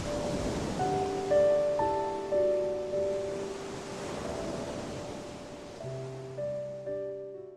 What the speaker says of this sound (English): the waves were coming in.